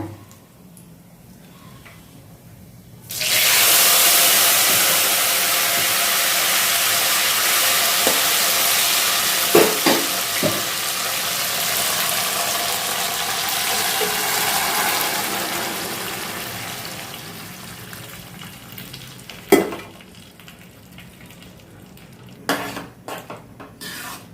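Lentils for Odisha dalma hiss and sizzle loudly in a hot pan with cumin, a steady frying roar that swells suddenly and slowly fades, broken by scraping stirs and clinks of a metal spoon, with no talk.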